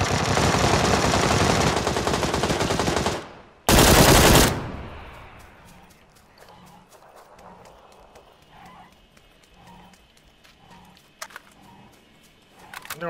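Sustained loud bursts of rapid gunfire in PUBG on the Sanhok map, then a second sharp blast, followed by quieter scattered clicks and faint hoofbeat-like taps.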